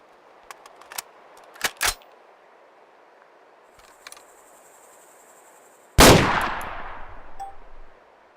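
An M110 rifle in Arma 2 fires 7.62 tracer rounds after a few sharp clicks and clatters of handling and loading, ending with one loud close gunshot that rings and decays over two seconds.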